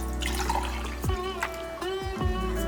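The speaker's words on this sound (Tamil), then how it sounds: "இப்போ இதே டம்ளரில் 2 டம்ளர் அளவுக்கு தண்ணி ஊற்றிக்கலாம்." Water splashes and trickles steadily, with a few sharper gushes and drips as it pours into a pot for making sweet pongal.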